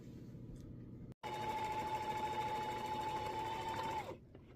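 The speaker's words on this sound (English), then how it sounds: "we'll take it over to the sewing machine, and we will stitch" A sewing machine runs steadily for about three seconds, stitching fabric for a travel organizer, then stops, with a brief pause just before it starts.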